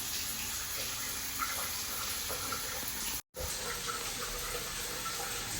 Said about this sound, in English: But we now have water coming out of the shower.